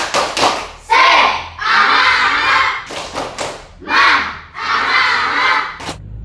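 A group of children perform a rhythmic spirit clap chant during a school gymnastics lesson, loud shouted chant phrases alternating with sharp claps and thumps in a lively, repeating pattern, close by.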